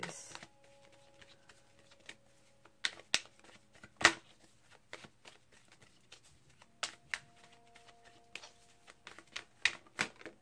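Tarot cards picked and handled on a table, giving soft scattered shuffles, taps and flicks, quiet and close with short bursts and pauses.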